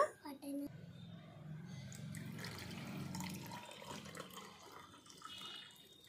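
Water runs and splashes steadily into a glass for lemon water for several seconds, with someone speaking briefly near the start.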